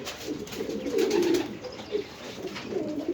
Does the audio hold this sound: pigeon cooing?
yes